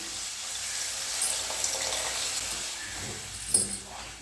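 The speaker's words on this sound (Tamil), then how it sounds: "புளி தண்ணியை சேர்த்துடலாம்." Tamarind water poured into a pan of sautéed ingredients while making vatha kulambu, a continuous close liquid splash and hiss that swells briefly near the end.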